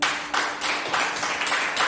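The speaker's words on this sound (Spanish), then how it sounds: "Un aplauso al Señor." A church congregation applauds during a Spanish-language sermon, with dense, steady clapping from a crowd that swells in waves, with no talk over it.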